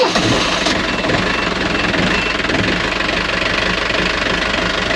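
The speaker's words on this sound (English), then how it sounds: "would you start the engine please, Melissa?" A sailboat's inboard engine runs loud and close, a dense mechanical clatter with a steady knocking rhythm that holds unbroken throughout.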